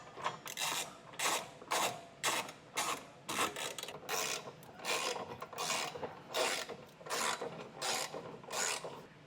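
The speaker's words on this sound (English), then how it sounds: "Now we're just going to come back with a 17mm socket and wrench and just get all this snugged up to the frame." A 17mm socket and ratchet wrench snug up the mounting bolts of a Curt Class III trailer hitch on the frame of a 2024 Subaru. Close, rhythmic rasping ratchet strokes repeat steadily, with no speech.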